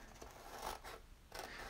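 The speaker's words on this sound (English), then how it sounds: "cut it out either with a die cutting machine or just a pair of scissors" Scissors cut through printable vinyl in two brief, close slicing strokes with a quiet rasping texture, alone and soft.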